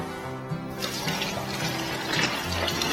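Eight liters of room-temperature water pours steadily into a container, a broad rushing splash that starts after a brief quieter moment and continues at close range.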